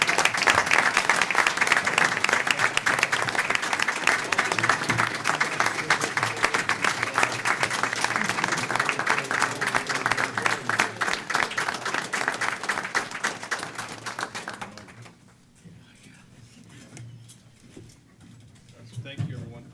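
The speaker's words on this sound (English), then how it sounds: "Thank you, everyone, for such a warm welcome and round of applause." Audience applause welcoming a new college president at a meeting, dense steady clapping for about fifteen seconds before fading to quieter room noise.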